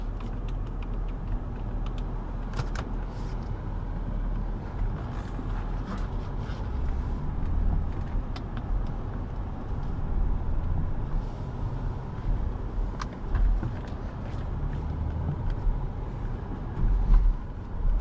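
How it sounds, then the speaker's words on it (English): Steady road and cabin rumble from inside a 2022 BMW X7 xDrive40i SUV being driven, a continuous low drone with slight creaks and rattles, no voices. "Let's get this car out on the road and see how it drives."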